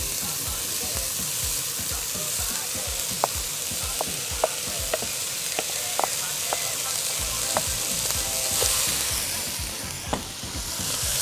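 Onion and ginger sizzle steadily in a hot pan, a constant frying hiss broken by scattered utensil clicks and stirring taps against the pan.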